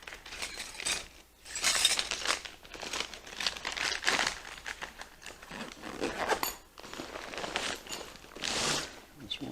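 Repeated crinkling and rustling of a small plastic bag of clamps from a medical IV kit being handled up close, with small metallic clinks among the crackles in uneven bursts.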